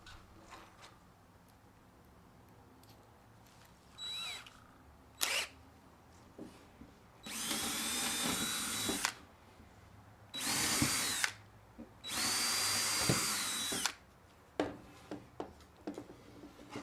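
A power drill boring holes for a table top stand that holds a screen printer and flash dryer, with a brief whir and then three loud sustained bursts of drilling between quiet pauses and small handling clicks.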